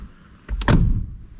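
A heavy car door, weighed down by about 38 kg of added door speakers and doorboards, swings open hard with a thud and a rattling creak of the door check straps, followed by a brief low rumble.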